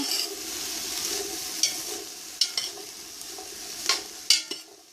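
Okra and tomato stew sautéing in a pan, a soft steady sizzle with a few scattered clicks and taps of a utensil against the pan, close by, no speech.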